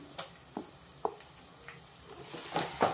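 Green chili paste goes into a frying pan and is stirred, a faint quiet sizzle broken by several soft scraping clicks of a spoon against the pan, close by, with no voices.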